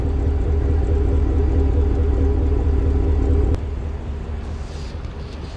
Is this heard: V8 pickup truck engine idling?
yes